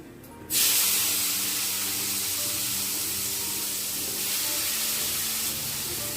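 Five-spice seeds hit hot oil for a Bengali egg curry, a sudden loud hiss that settles into steady close sizzling and spattering throughout, with no talk.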